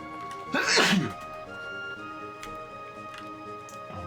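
One sharp, loud human sneeze bursts out near the start, over a steady ticking background from a factory-building game.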